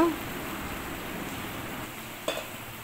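Cooked beef tipped into a pan of red chilli masala for a dry beef sukka, giving a steady close sizzle and hiss with a brief clatter near the end.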